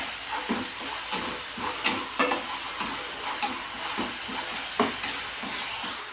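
Coarse chilli and garlic paste roasts in hot oil with a steady, close sizzle, broken by repeated scraping stir strokes and small crackles, with no voices.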